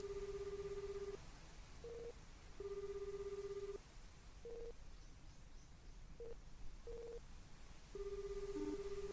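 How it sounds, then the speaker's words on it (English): Electronic phone ringtone from the video game Astlibra Revision, a steady tonal ring in repeated bursts with short warbling chirps between them, clear and moderately loud with no talk. "Oh, that's a phone."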